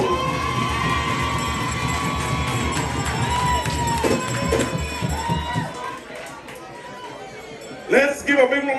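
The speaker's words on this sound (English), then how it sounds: "Let's give a big round of applause for Juancito Castillo" A lively crowd cheers, shouts and claps at a Garifuna community event, with high voices and whoops, fading slightly midway before a fresh burst near the end.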